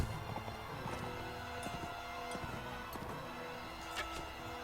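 Horses gallop in Mount & Blade Warband, a steady clatter of hoofbeats at moderate loudness under a constant ambient hum, with occasional sharper impacts throughout.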